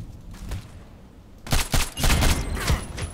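Rapid bursts of DTS SS weapon gunfire in a shooter video game, loud and close, erupting after a quieter start and continuing in dense volleys to the end.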